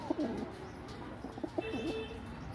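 Pigeons kept by a breeder give soft, low cooing calls in a few short bursts, fairly quiet against steady background noise, with no talking.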